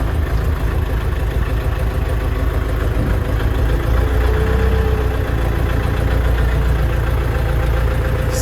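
A KENTAVR 404 small tractor engine, started with half a turn, idles steadily with a low, rhythmic chugging throb that runs unbroken throughout, close and fairly loud.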